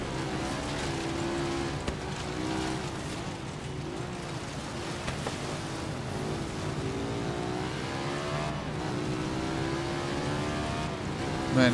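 An ATV engine in Forza Horizon 3 drones and revs continuously during a race against a blimp, its pitch sweeping up and down with throttle changes, loud and close with no talking.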